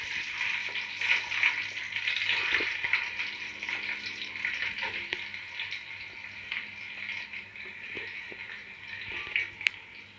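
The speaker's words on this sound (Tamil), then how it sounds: "வெங்காயம் நல்லா கோல்டன் ஃப்ரை ஆகிற வரைக்கும் வதக்கி விட்டுட்டே இருங்க" Lengthwise-sliced onions frying in spiced oil for prawn dum biryani, a soft, steady sizzle and crackle that carries on with no voices and the odd faint stir near the end.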